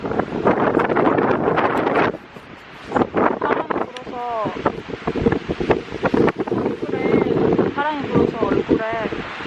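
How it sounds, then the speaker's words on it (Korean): Wind gusts buffet the microphone outdoors on a trail at Abu Oreum on Jeju Island, roaring in loud bursts that rise and fall while a person talks over it. "바람이 불어서"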